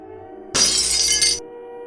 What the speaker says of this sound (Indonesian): Mendadak suara pecahan kaca mengusik indera pendengaranku.